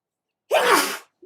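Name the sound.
person sneezing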